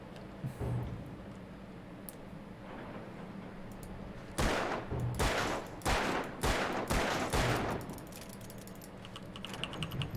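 Gunshots ring out in Alan Wake: a rapid cluster of sharp cracks in quick succession over a dense background hum, with a few scattered shots before and after the burst.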